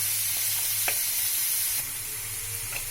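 Mashed potato stirred into a frying pan of spiced mixture with turmeric and chili flakes for Bengali brinjal chop, giving a steady close sizzle with a few soft scraping stirs.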